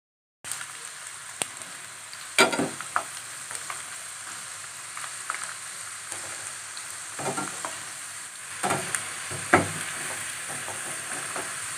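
Food frying in oil until golden, a constant close sizzle broken by a handful of louder crackles and metal spatula scrapes scattered throughout, with no voices.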